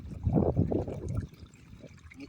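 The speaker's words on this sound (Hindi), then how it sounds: "पानी यहाँ पे गिर रहा है" Irrigation water splashes and trickles into a mung bean field, a brief close gurgling pour that fades after a second, with someone speaking over it.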